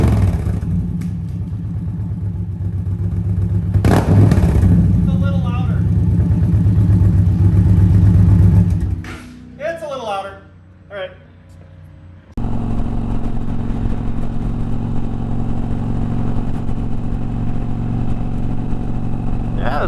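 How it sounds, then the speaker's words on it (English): A Challenger motorcycle fitted with slip-on exhausts runs loud and close, its engine note steady at first, dropping briefly and then returning at a strong, even level; a person talks over part of it. "I got the slip-ons on now, and the bike sounds much better, much better."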